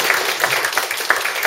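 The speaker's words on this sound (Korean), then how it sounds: "박수 쳐야지." An audience at an arts talk applauds briefly, giving a short, light patter of scattered claps at moderate volume.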